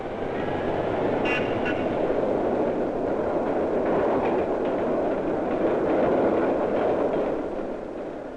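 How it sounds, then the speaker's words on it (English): New York rapid transit trains running on rails, a loud, steady rumble with rhythmic clatter throughout, close and continuous with no voices. "trains go underground into subways and tunnels as they approach the crowded areas of the city"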